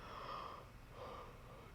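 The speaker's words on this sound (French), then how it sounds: "Je bâille." A person yawns in one long, quiet exhalation, swelling and fading over a couple of seconds, with no other sound.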